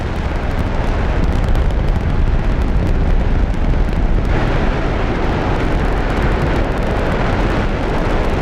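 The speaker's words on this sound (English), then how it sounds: "The SRBs pass the next crucial test and hold together under the G-force of full throttle." Space shuttle Endeavour's solid rocket boosters at full throttle during launch produce a loud, continuous broadband roar that stays steady and dense throughout, with no voices.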